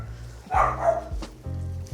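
Small puppies barking indoors in a kitchen, a couple of short close yaps with a steady background hum between them.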